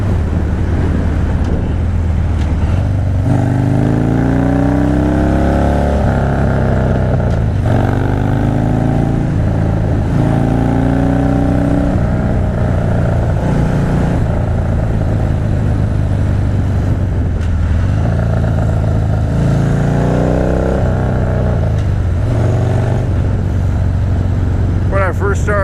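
Motorcycle engine while riding on a road, a loud droning exhaust that rises and falls through repeated rev sweeps and gear changes, with steady wind rush and someone talking over it.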